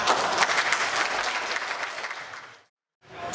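Audience applause at an Indonesian agricultural working visit by a parliamentary commission deputy chair, a steady burst of clapping from a gathered crowd that cuts off abruptly near the end before resuming briefly.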